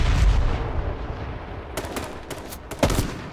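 Gunfire from the H1Z1 video game: a string of sharp shots cracks out in the second half, the last one loudest, over a dense rumbling game background with no talk.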